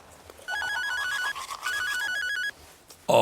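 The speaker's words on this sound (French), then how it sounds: "il voit alors son téléphone sonner" A telephone rings with a bright, repeated electronic trill in two bursts separated by a short pause, clear and close, with no talking over it.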